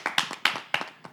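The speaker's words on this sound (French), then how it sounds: "On va applaudir pour cette personne" A French TV studio audience claps in a short burst, several sharp hand claps in quick uneven succession rather than a full sustained ovation.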